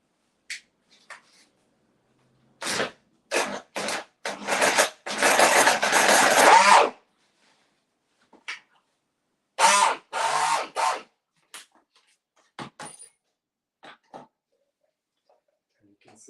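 Food processor whizzing an energy ball mixture in several short bursts, the longest lasting a few seconds, then quieter pulses with gaps of silence between them.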